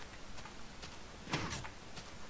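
Minecraft sliding piston door opening in a redstone build, heard as a faint, brief mechanical whoosh-clunk about a third of the way in, alone against quiet background.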